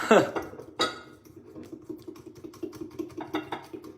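Whisking or stirring a mixture in a bowl, with repeated light scraping and clinking of a utensil against the bowl after a sharper knock at the start.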